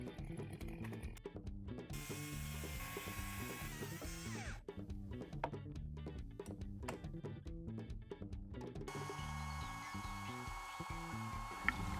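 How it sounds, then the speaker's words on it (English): A soil auger bores a hole to raise a water tank on a farm, a steady grinding, whirring drill noise that runs throughout with shifting tone and some rattling, near and fairly loud, with no talking. "Time to put the soil auger to work again."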